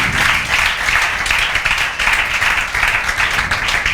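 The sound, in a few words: applause and clapping for a student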